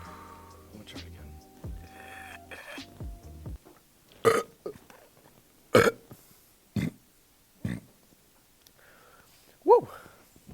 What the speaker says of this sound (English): it'll just make me burp uncontrollably